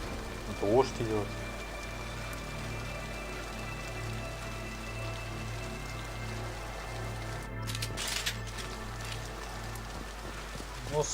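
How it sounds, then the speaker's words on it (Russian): Steady rain falling in the video game Mass Effect 2, a soft continuous patter under low ambient hum, with a brief louder burst partway through and talk over it. "Дождь идет."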